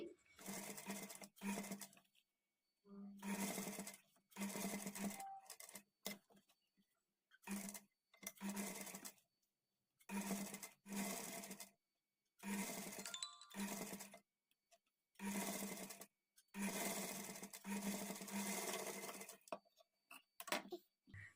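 A sewing machine stitches piping cloth around a patchwork blouse neck in short bursts, running a second or two and stopping, again and again, with a steady whirring rhythm and quiet pauses between runs.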